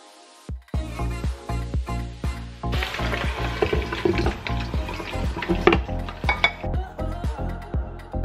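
Meatballs sizzle and crackle as they deep-fry in hot oil, with repeated clinks of a utensil against the pan throughout, close and steady.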